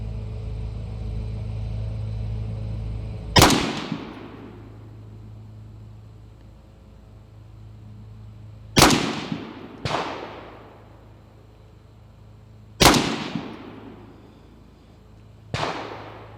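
SA58 rifle firing its last two rounds during dynamic extended-range shooting: four sharp, loud gunshot cracks spaced a few seconds apart, each with a decaying echo over a low steady rumble.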